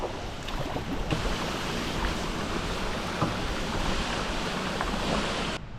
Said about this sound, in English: It's more waterfalls. It's kind of fun having twin streams right there.